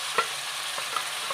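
Finely chopped tomatoes tipped into a hot pan with turmeric for an egg and tomato dish, then stirred: a brief soft sizzle with a few light spoon scrapes.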